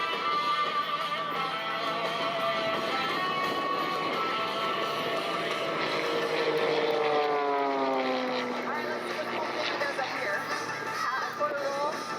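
A 1984 Pitts aerobatic biplane with a 260-horsepower 540 engine drones loudly overhead at an airshow, its pitch sweeping and shifting as the aircraft maneuvers, continuous throughout.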